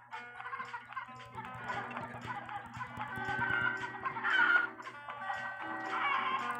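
Chickens cluck in a steady run of short repeated calls over several seconds, close and moderately loud, with busy rhythmic ticking clucks and no talk.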